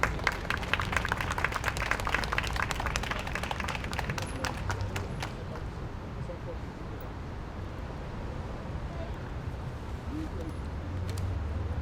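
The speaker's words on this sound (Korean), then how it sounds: "박수 부탁드리겠습니다." Outdoor crowd applause at a memorial culture event for the Itaewon disaster victims, dense clapping strongest in the first five seconds, then thinning into a low, diffuse murmur.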